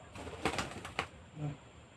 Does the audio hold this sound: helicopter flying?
no